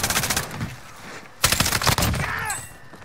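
Rapid automatic gunfire in a Warzone Rebirth Resurgence match: dense bursts of close, loud shots in quick succession with a short pause before another heavy volley.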